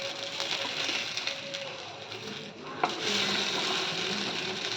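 A chila pancake sizzles in a pan with a steady low crackle of frying, followed by a short clatter and scrape as it is flipped, the sizzle then resuming slightly louder.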